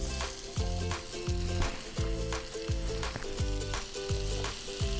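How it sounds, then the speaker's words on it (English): Steady, crackling sizzle of onions frying in hot butter, continuous and close, with no talking. "Our butter is sizzling and we are ready to put our onions in."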